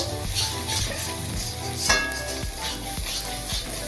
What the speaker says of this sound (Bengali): ডিমটাকে এখন ভালো করে ভেজে নেব